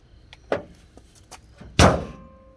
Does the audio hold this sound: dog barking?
no